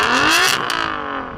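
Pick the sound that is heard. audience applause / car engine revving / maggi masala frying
car engine revving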